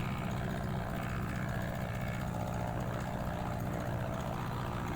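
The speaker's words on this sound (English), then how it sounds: "I don't know why the engine sounds like it's dying." A Christen Eagle II propeller aircraft engine in the DCS flight simulator runs at full throttle with a steady, continuous low droning hum and slight rough pulsing, constant in level throughout.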